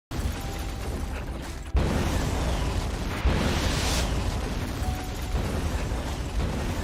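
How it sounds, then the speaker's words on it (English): A loud cinematic explosion from Neil Breen's film Twisted Pair bursts in, followed by rumbling debris and a second surge of crackling, roaring noise that stays loud to the end. "he has one explosion in his arsenal that he's going to use over and over"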